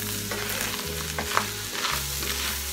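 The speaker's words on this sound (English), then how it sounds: "you're going to mix this all together all over the meat" Ground taco meat sizzles steadily in a hot pan as Cajun seasoning is stirred in, a close, continuous frying hiss with soft scraping strokes of the utensil, no voices.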